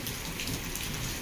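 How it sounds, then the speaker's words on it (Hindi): Heavy monsoon rain pours down steadily in an Odia village, a dense, loud, continuous hiss of drops on surfaces with no pauses and no voices. "देखो भाई केते जोर वर्षा हो"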